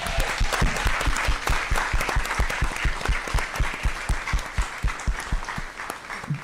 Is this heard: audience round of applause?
yes